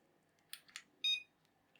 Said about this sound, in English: Now we've got this thing as the set alarm signal.